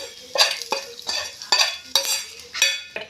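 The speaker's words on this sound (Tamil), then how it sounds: "இப்போ தாளிச்சதை இதில் கொட்டி மிக்ஸ் பண்ணலாம்." A fried tempering is stirred into Kerala-style nadan chicken curry in a pot, heard as a series of about six scraping, clinking stirs with a light sizzle, close and alone without speech.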